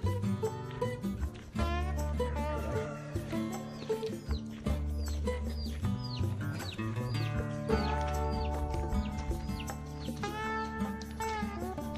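A rooster crows and hens cluck in a rural Chiapas mountain village, with repeated loud calls close by over a steady background hum.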